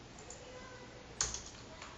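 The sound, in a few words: typing on a computer keyboard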